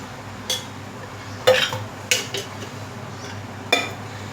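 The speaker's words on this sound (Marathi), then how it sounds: "कढई तापायला ठेवली मी." A metal kadai (wok) set down on a stove, four distinct close clanks of metal on metal spaced over a few seconds against a low background hum.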